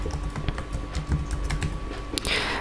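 An email address is typed on a computer keyboard: a quick run of close, light key clicks with a louder tap near the end, no talking.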